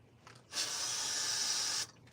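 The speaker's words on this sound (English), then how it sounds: "I'm spraying for mosquitoes" A single steady hiss of insect repellent aerosol spray, close and continuous for just over a second, in an otherwise quiet outdoor setting.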